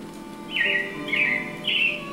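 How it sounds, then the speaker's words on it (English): Three short, high robin chirps come in bursts about half a second apart over a steady low background hum, fairly close and clear. "it looks like the robins are getting ready to celebrate Valentine's Day today"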